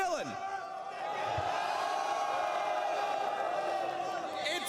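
An esports arena crowd at a 2024 semi-final cheers in a broad, sustained roar that fills the space, with excited voices rising over the steady noise.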